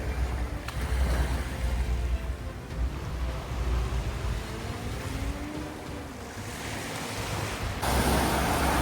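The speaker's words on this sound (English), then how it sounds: "you can see that the waves are slowly picking up" Ocean surf rolls onto the coast at Montego Bay, Jamaica, during a cold front with drizzling rain, a steady broadband wash of waves and wind with no voices.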